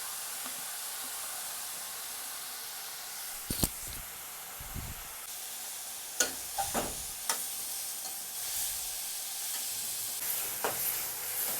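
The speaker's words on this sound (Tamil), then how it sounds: "இந்த ஸ்டேஜில் நம்ம கட் பண்ணி வச்சுருக்க தக்காளி ஆட் பண்ணிக்கோங்க." Chopped tomatoes sizzle in hot oil in a pan while cooking prawn masala, a steady quiet frying hiss broken by several scraping clatters as a spoon stirs, close by with no talking.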